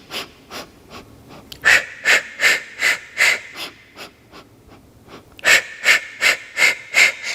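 Rhythmic breathing in and out during a 10-minute home ab workout done against a wall, with about ten close, loud breaths alternating in a steady paced cycle and no talking.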